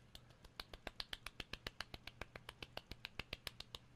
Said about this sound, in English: Golf clap.